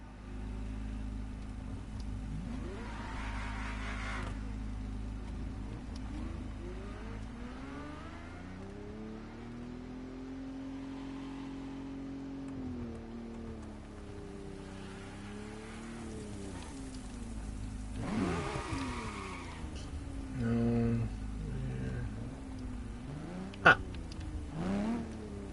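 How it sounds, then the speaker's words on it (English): A Ferrari GTO engine drones and rises as the car drives in The Crew Motorfest racing game, set in Hawaii, with pitch swings from revving and shifting over a steady hiss like rain. "The car you're about to drive in this opening event is none other than the first Ferrari in the supercar bloodline, the Ferrari GTO."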